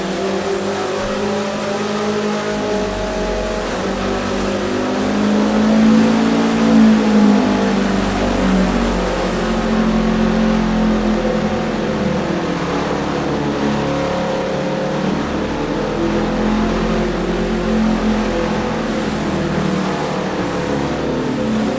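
VW engine on a dyno during a pull at the EMPI Engine Battle, a loud sustained roar that climbs steadily in pitch, swelling near the middle and holding a strong drone to the end, with no talking.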